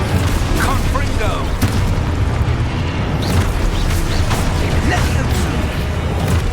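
Confringo blasting spells exploding in the Hogwarts Legacy video game, a dense barrage of loud booms and crackling blasts amid combat noise, with shouted spell incantations over the top.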